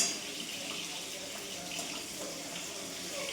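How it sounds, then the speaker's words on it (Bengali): Water runs steadily from a tap into a bathroom container, giving a soft, even, continuous rush at moderate distance. "পরে বাথরুমে জল ভরতে দিয়েছি"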